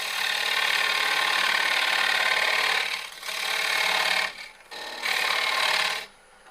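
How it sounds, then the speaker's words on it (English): A lathe tool scrapes a dovetail into a turning wooden bowl, a steady rasping hiss that runs for about three seconds, then breaks into shorter cuts before stopping. "now we got to put a dovetail on here so that the chuck will grab it better"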